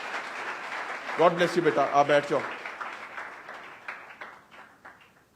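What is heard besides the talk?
congregation applauding in church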